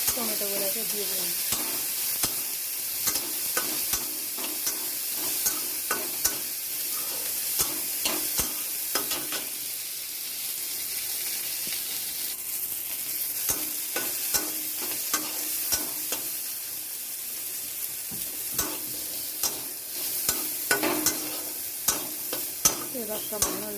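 Green tomatoes fry in mustard oil in a kadai with a steady sizzle, broken by frequent sharp scraping clicks of a spatula stirring against the pan, close and continuous, with no talking.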